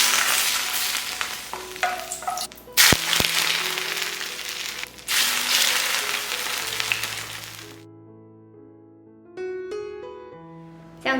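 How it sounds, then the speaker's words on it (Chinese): Hot oil poured over a bowl of sauerkraut and sliced pork topped with garlic, chili rings and scallions, giving loud bursts of sizzling in several surges before it dies away, with gentle music taking over near the end. "最后泼上热油。"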